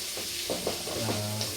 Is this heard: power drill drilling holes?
no